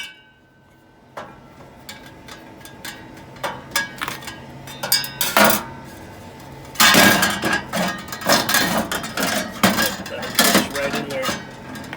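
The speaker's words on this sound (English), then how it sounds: "I'm going to get my T-handle Allen wrench. I am going to get this fan blade loose" A T-handle Allen wrench working loose the fan blade on an air compressor, scattered metallic clicks, taps and clanks at close range, growing busier and louder partway through.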